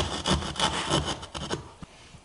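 A handsaw rasps back and forth through wood in quick strokes, close by, trailing off into a few faint scrapes.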